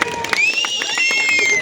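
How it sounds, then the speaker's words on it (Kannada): An audience at a comedy show during a temple fair in Haveri claps and cheers for a performer, a dense burst of applause with bright overlapping claps and crowd noise, steady throughout. "ಒಂದ್ಸಲ ಜೋರಾದ ಚಪ್ಪಾಳೆ ನರಸಿಂಹ ಜೋಶಿ ಅವ್ರಿಗೆ"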